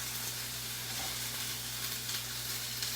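Food browns in a hot pan with a soft, steady sizzle and hiss beneath a constant low electrical hum, faint and without speech.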